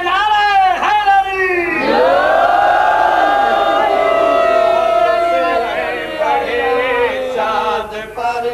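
A crowd at a 1988 Shia majlis in Khairpur loudly chants the slogan Naara-e-Haidari in unison: many voices join in long, rising and falling shouts that fill the space and continue without a break.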